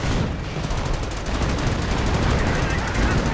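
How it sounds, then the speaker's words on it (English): Rocket barrage and gunfire in a World War II strategy video game, a dense continuous roar of rapid firing and blasts, loud and unbroken, with game commentary talk over it. "we are seeing a rocket barrage getting called in"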